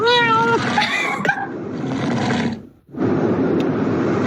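A cat gives a drawn-out meow with rising and falling pitch, followed by a short burst of noise and a steady background hum.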